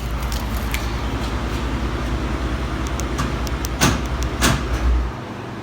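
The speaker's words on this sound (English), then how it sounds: "We're gonna turn the truck off." A 2015 Ford F-150 pickup's 5.0 Coyote V8 engine idles with a steady low rumble, a few clunks near the end, then the rumble cuts out abruptly into quiet.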